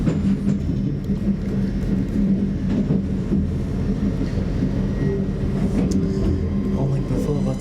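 An LNER Azuma train approaching Newcastle station, heard from on board as a steady, loud low rumble that runs throughout, with speech over it at times.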